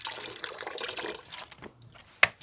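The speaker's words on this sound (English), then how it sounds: "I'm putting some vinegar in there." White vinegar poured into a pot of fresh water, a steady watery splash and trickle for the first second or so, fading to quieter drips with a sharp clink near the end.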